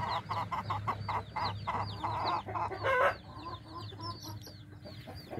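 Several hens waiting to lay eggs cluck repeatedly near a haystack, close and steady, with a low continuous hum underneath.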